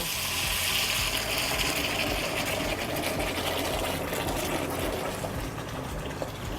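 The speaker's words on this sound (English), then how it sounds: "So I'm going to turn off my kettle and dump the syrup into my pan that I'm going to vacuum cool into." Hot maple syrup heated to 236 degrees pours from a kettle into a pan for vacuum cooling, a continuous close, steady gushing rush with a faint mechanical hum beneath, slowly tapering near the end.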